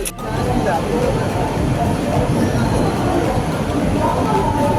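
A train rumbles steadily through a railway station in Ernakulam, Kerala, with a low, continuous roar and faint wheel noise, heard from inside the carriage.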